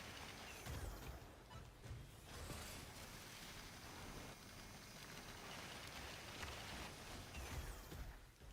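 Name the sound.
light rain in the video game Synduality: Echo of Ada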